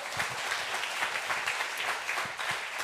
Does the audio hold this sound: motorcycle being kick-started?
no